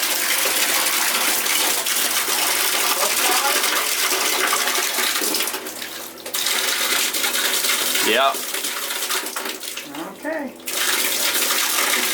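Water gushes steadily from a tap inside a converted skoolie bus, a loud, close, continuous rush that briefly dips and changes tone, with people talking over it.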